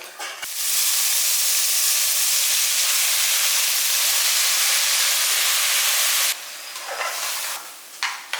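Soaked moong dal and rice dropped into hot ghee for temple-style sakkarai pongal, setting off a sudden loud, sustained sizzle right up close that drops off after about six seconds into softer stirring and crackle.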